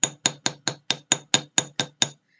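A hammer strikes a fine silver hoop earring to texture it, landing ten crisp, evenly spaced metallic taps in a quick, steady rhythm before stopping.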